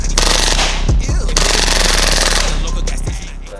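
Airsoft pistol firing in semi and full auto, loud close rapid bursts of mechanical shots broken by a couple of short pauses and single shots.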